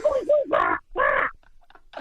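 A man imitates a seagull with his voice, giving a wavering squawk followed by two loud, harsh, drawn-out cries, then some brief faint noises.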